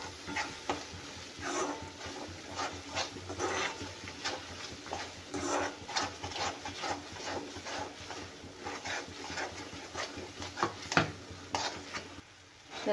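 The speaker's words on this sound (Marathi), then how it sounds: "तर हे बघा, मसाला छान भाजत आहे आपला" Masala sizzling in oil in a pan for egg curry, with a steady frying crackle and repeated scraping stirs of a spoon across the pan, close and continuous with no talk.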